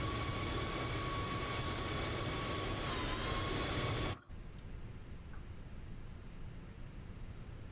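Airbus A340 jet engines hum in a flight simulator, a steady whine with sustained tones that cuts off abruptly midway, leaving a quieter background rumble.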